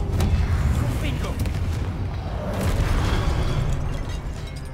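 In the Hogwarts Legacy video game, Confringo blasting spells go off as deep rumbling booms under a speaking voice, a continuous crackling roar that swells and fades over a few seconds.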